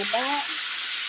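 Chicken frying in a pan with milk simmering on a back burner gives a steady close sizzle throughout, with a brief tonal squeak at the start.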